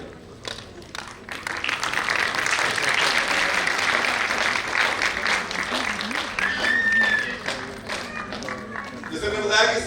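A crowd breaks into loud, sustained applause to welcome a guest at a Hindi stage show, a dense wash of clapping swelling for several seconds, thinning briefly, then surging again.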